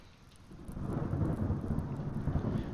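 Thunder and rain in the survival video game Smalland, a steady low rumble of thunder rolling under a dense wash of rainfall that builds slightly and holds, loud and continuous with no talking.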